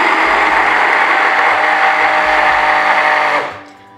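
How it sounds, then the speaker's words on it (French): Hand blender held still while whirring steadily in a homemade organic hair-growth mixture, a loud continuous motor drone that winds down and stops near the end. "Je vais plonger mon mixeur à l'intérieur et je vais faire ceci sans toutefois bouger le mixeur."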